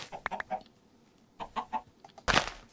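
Chickens in Minecraft cluck in short bursts, a few soft calls then a louder flurry near the end, with no talk.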